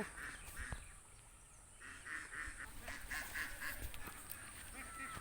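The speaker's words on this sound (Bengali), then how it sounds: "আজকে তোমাদেরকে হাঁসের পাল দেখাচ্ছি" A flock of ducks calls in repeated nasal honking quacks, faint and a short distance off, over a soft outdoor background.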